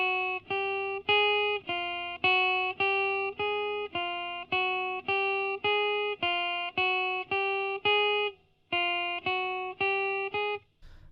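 Plucked guitar notes for a finger exercise ring out one after another on a single string in a steady even rhythm, each sustained until the next, with a brief pause near the end.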